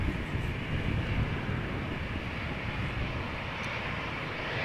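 A United airliner taxiing toward the runway threshold at Amsterdam Schiphol, giving off a moderate, steady engine rumble and hiss from some distance, unbroken and without voices.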